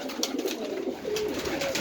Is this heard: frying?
no